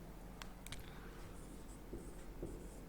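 Chalk or marker writing on a classroom board during a physics lesson on lift motion, with a few short strokes and taps, close but quiet.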